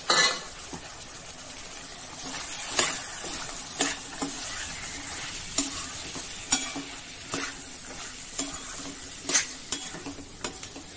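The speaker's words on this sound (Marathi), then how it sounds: "सर्व मसाल्यांबरोबर हे नीट मिक्स करून घेऊ।" A spoon repeatedly scrapes and stirs black-eyed peas and eggplant curry with spices in a hot pan, giving sharp rhythmic clinks over a constant soft sizzle, with no talking.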